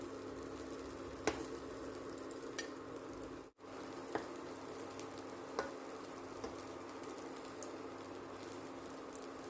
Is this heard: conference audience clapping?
no